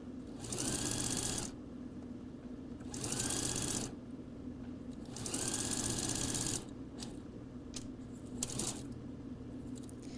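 Sewing machine stitching fabric for a pair of shorts, three bursts of fast, steady whirring a second or two each, separated by short pauses, with a faint click near the end.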